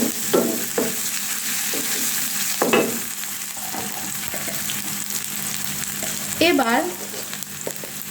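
Onion, chili, ginger and garlic fry in a pan with a steady close sizzle, broken by scattered spatula scrapes and clicks. A voice speaks briefly near the end.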